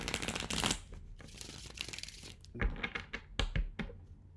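A deck of tarot cards is shuffled close by in humid weather: quick papery riffles and soft slaps come in several short bursts separated by brief pauses, with no talking.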